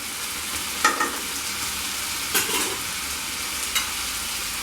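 Tomatoes, ginger and garlic stirred in a hot pan for a Bengali fish head pulao, a steady close sizzle with a few distinct scraping strokes of the spoon.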